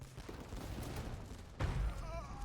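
Organ guns firing volleys during a strategy video game battle: a dense crackling burst of gunfire, with a louder, heavier blast about two-thirds of the way through, over busy battle noise.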